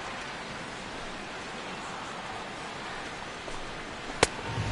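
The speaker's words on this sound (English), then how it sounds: "And this rain is intensifying now. This is as hard as it's come down all night." Heavy rain pours steadily in a baseball video game, a dense, even hiss of falling water that stays constant throughout, with a brief sharp knock near the end.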